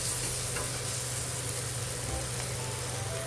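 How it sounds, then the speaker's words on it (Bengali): Potatoes sautéed in a pan for masala egg curry give a continuous close sizzle with soft stirring, over a low steady hum and no speech. "তো এখানে আলুটা ভালোভাবে কষিয়ে নিয়েছি"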